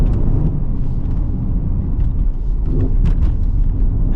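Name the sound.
Mercedes ML63 AMG exhaust during downshifts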